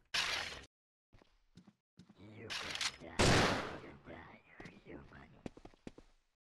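Gunfire in the pirate game Corsairs 2: Pirates of the Caribbean, several sharp, loud shots in separate bursts amid quieter game noises and brief gaps of silence.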